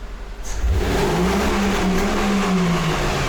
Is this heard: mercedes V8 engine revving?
yes